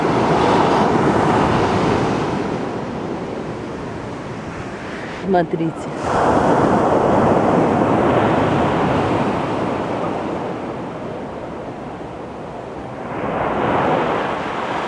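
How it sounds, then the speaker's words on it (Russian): Pacific Ocean surf breaking on the beach at Puerto Vallarta, Mexico, a loud continuous wash of waves with wind noise on the microphone, one brief burst of speech partway through, and the roar swelling again near the end. "Хочу показать вам, какие волны здесь."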